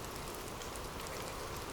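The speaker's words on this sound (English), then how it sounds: "The sound of abundant rain." Heavy, abundant rain falls in a steady, dense hiss that stays even and loud from start to finish, with no voices.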